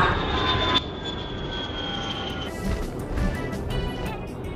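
A jet aircraft engine roars in an animated Jurassic World scene, a loud sustained whine with a sharp tonal shift early on, then a rumbling drone with brief surges.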